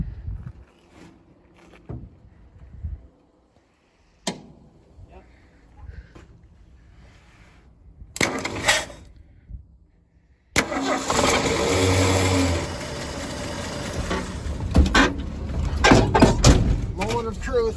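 A 1978 Ford F-150 that sat for 28 years cranks and roars to life after quiet moments and a few clunks, the engine then running loud and rough, with people talking nearby.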